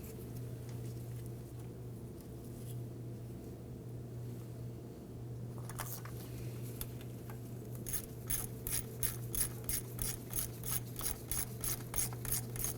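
Ratchet tightening the pivot arm bolt on a 2008-2011 Ford Focus during neutral safety switch replacement, quiet at first, then a fast, even series of crisp clicks building near the end over a low steady hum.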